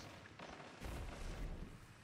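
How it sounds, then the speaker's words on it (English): Hand cannon fire in a video game, a pair of heavy, booming shots close up, the second louder, over a faint rumbling game background. "Is that somebody using a hand cannon?"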